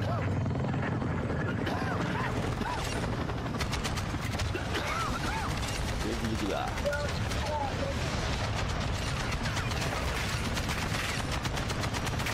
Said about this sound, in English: Chopper coming in.